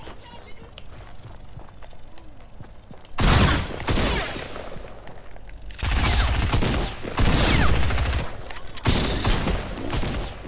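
Rapid bursts of video game gunfire in a duo match fought during a winter storm crackle in three dense volleys. They rise sharply over steady background game noise while a player talks throughout.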